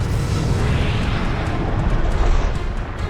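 A large volcanic eruption at Mount Paektu gives off a loud, continuous deep roar and rumble, a dense blast of noise with no voices.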